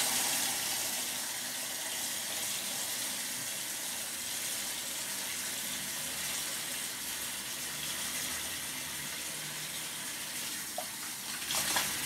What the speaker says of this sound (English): Just to loosen up the oil, I'm using more warm water